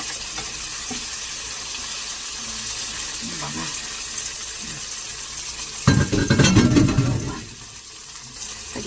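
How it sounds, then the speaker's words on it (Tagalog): Water is poured into a pan of sardines cooking on the stove, a short loud splash and sizzle burst after quieter background kitchen noise, settling back to a low simmer. "Lagyan natin ng konting sabaw ng tubig."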